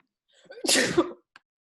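A single loud sneeze erupts close by, followed by a brief faint sound afterward.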